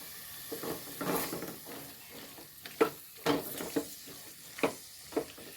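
A spoon scrapes and stirs through a thick roasted-coconut curry paste for papaya curry in a pan, with soft sizzling underneath and a few sharper clacks of utensil against metal.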